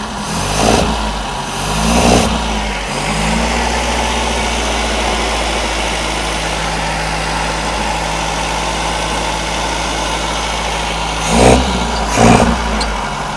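A 1952 Riley RMB engine idles steadily and close up, with a couple of short revs at the start and again near the end, and no talk.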